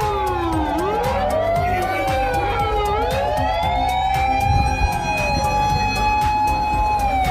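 A toy fire truck siren wails in rising and falling electronic sweeps, loud and close, repeating continuously with faint background noise.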